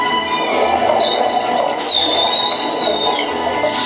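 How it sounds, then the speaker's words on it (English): A thin, high orca whistle rises and holds steady for a couple of seconds before dropping away, over a dense, noisy underwater-like background hiss, at SeaWorld San Diego. "Whistles to socialize in the pod."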